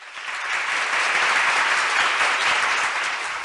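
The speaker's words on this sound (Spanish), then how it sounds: "les pido un fuerte aplauso" A crowd applauds two special guests at a public education event: loud, dense, continuous clapping that swells slightly and holds steady for several seconds with no voices on top.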